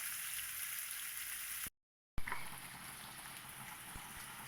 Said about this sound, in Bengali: পেঁয়াজটা আমি খুব সুন্দর করে লাল লাল করে ভেজে নিয়েছি